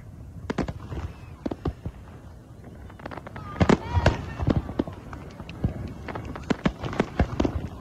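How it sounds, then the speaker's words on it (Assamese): New Year fireworks burst over Taiwan in a scattered series of sharp pops and cracks, some near and loud, others fainter, with a murmur of background noise between the blasts. "এয়া টাইৱানৰ আকাশতো দেখিবলৈ পোৱা হ'ল ৰং বিৰঙী ফটকা আতচবাজিৰ সমাহাৰ"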